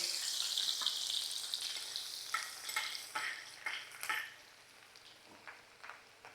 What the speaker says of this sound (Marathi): तेल तापलंय बघा आता आपल्याला ह्याच्यात लसूण टाकायचे